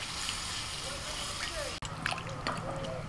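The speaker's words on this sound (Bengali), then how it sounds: "এবার এর মধ্যে আমি জল দিয়ে দেবো।" Water sloshes and splashes into a pan of frying vegetables and spices, a steady wet hiss with a brief clatter midway.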